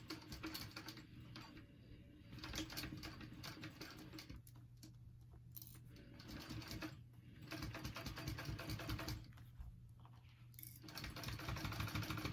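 A sewing machine runs steady bursts of top stitching along the body piece of a clutch wallet, pausing briefly twice between runs, close and alone with no voices.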